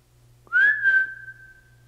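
A single sustained whistle, rising then holding steady, sounds during a paranormal investigation in a reputedly haunted Kentucky school, fairly close and clear over a low background hum, fading out as it holds.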